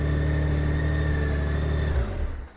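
A 2002 Honda GL1800 Goldwing motorcycle engine runs in first gear, a steady low idle that drones close by for about two seconds before its pitch and level drop slightly, with no voices.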